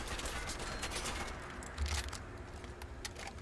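A modded assault rifle firing in Fallout 4, heard as quick bursts of sharp, crackling shots with some metallic clatter, fairly faint and packed closely together.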